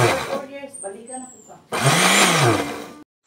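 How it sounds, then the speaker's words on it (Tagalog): A kitchen blender whirs loudly up close for about a second and a half as it chops garlic, siling demonyo chili, Carolina Reaper and kulikot peppers, then cuts off abruptly. A person talks just before it starts. "ato na nang ihulog diya kay blender na nato"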